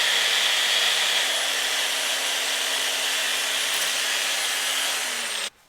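Steady whirring of a buffing tool lightly polishing scratches from the plastic casing of a Nintendo Wii console, a constant close drone that cuts off at the end.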